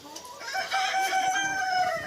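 Young hens cluck and warble up close, a drawn-out fowl call with wavering tones, loud and clear.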